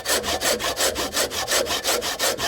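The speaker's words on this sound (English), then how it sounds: "Then go ahead and start sawing, following the other line." A hand saw cuts wood for a haunched mortice joint, with steady back-and-forth strokes at about five per second, close and loud, and no talk.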